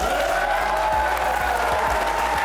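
A live studio audience applauds at a sports talk show, with steady loud clapping and a few hand claps standing out from the mass.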